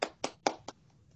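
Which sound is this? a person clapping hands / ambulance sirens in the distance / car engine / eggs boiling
a person clapping hands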